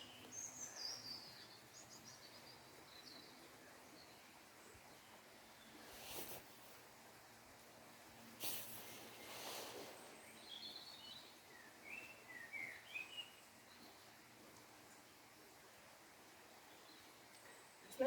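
Faint bird calls and chirps from the treetops scattered through a quiet outdoor background, distant and intermittent, with a few brief rustles.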